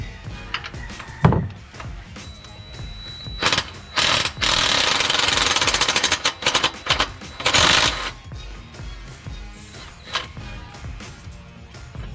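Impact wrench on a GMC Sierra 1500 oil drain plug fires in a few short bursts and then one long loud rattling run, a near, harsh hammering with clanks in between and no talk.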